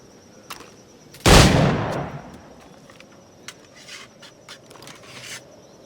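A single loud gunshot from a firearm in Assassin's Creed IV Black Flag rings out close, followed by a decaying echo and scattered faint clicks and knocks afterward.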